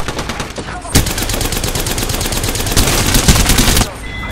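Loud, sustained automatic gunfire in the video game Apex Legends: a few scattered shots, then a dense rapid burst lasting about three seconds that cuts off abruptly, with game noise continuing faintly afterward.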